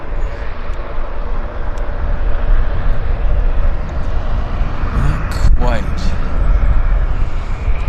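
A King Air turboprop on its takeoff roll at Vancouver International Airport makes a steady, broad engine roar throughout at moderate distance, with a brief chirping bird call near the end.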